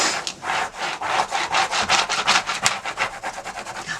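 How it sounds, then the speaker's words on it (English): A tool scrapes briskly back and forth over a Cricut vinyl design to burnish it, giving a steady run of close, rhythmic rasping strokes with no talk. "let's go ahead and give this a good burnish"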